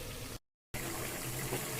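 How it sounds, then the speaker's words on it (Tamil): Water pours steadily into a pot of sambar, a continuous splashing gush broken by a short silent gap partway through. "ஒரு டம்ளர் தண்ணி ஊற்றி வேக வைங்க"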